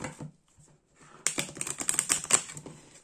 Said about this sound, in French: je vais vous faire un tirage comme j'aime bien faire là ces derniers temps avec le tarot à plusieurs cartes. Donc, je mélange cette nouvelle beauté.